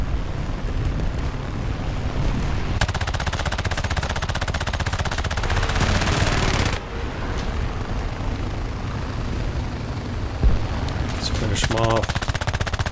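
Anti-aircraft gunfire in War Thunder during an air arcade match, continuous rapid cannon fire blended with aircraft engine drone, with a harsher burst midway and a short voice speaking over it.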